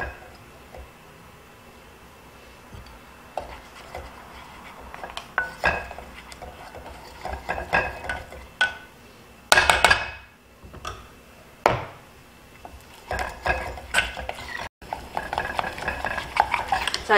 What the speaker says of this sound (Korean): 자, 계속 볶아서 갈색을 내주는 거예요.